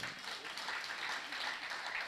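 An audience at a Hindi kavi sammelan poetry gathering in Pitampura applauds, a soft, even patter of many hands clapping at a distance for a couple of seconds.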